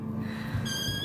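A rescue cat gives a short, faint meow indoors, brief and close, over a low steady background hum.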